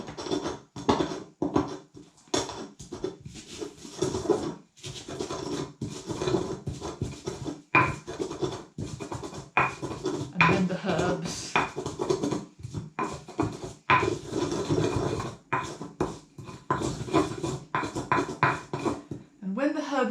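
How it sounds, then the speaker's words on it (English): White pepper is pounded into a paste in a mortar for a Roman-style dish, with rapid, irregular wooden knocks and grinding thuds that continue steadily while someone talks throughout. "So we pound that up, starting with the pepper."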